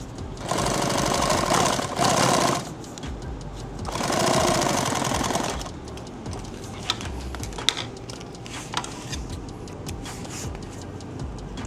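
A sewing machine stitching fabric runs in two loud whirring bursts, then gives way to quieter clicks and handling noises.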